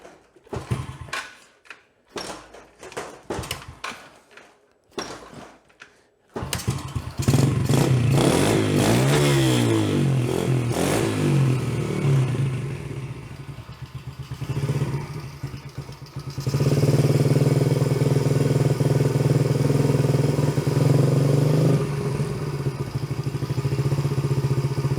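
Yamaha TTR110 motorcycle after a carburetor adjustment, first cranking and sputtering in short bursts, then catching and running with a steady close idle and occasional revs.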